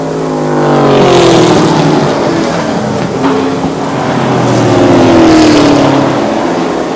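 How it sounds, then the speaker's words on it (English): Race cars roar around a super short track on the final lap, engines droning loud and steady with rising and falling pitch as the pack passes near; no talk. "Checkered flag is in the air, and Tyler Fiskus will win it in the number"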